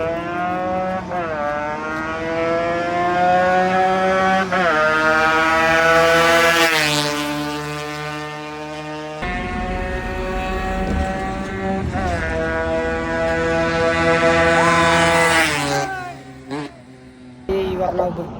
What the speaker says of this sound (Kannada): ಎರಡು ಗಾಡಿದು 400 to 400 ಟ್ರ್ಯಾಕ್ ರೇಸ್ ಸ್ಟಾರ್ಟ್ ಮಾಡ್ತಾ ಇದ್ದೀರಿ